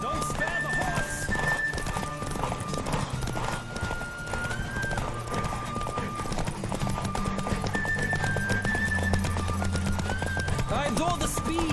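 A horse gallops fast in the video game The Witcher 3: Wild Hunt, its steady rhythmic hoofbeats running throughout, with occasional whinnies and game music and voices layered over them.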